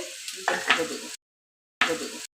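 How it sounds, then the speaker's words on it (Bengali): Mustard oil sizzles in a kadai as a dal tempering begins, a soft crackling fry that flares briefly, cuts out, then returns for a short burst. "ডালের জন্য আমরা প্রথম সরষের তেল দিয়ে দিলাম কড়াইতে"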